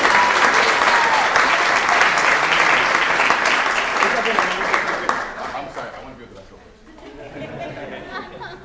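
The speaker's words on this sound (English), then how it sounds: "Please join me one more time in giving them a round of applause." Audience applause fills a city council meeting chamber, sustained steady clapping with some chatter for about six seconds before fading, then lighter scattered claps and murmuring voices return.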